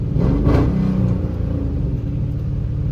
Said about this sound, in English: I'm super happy with how the exhaust turned out. It sounds great.